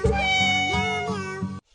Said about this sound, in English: Chucky cries loudly and calls for Mommy Cat.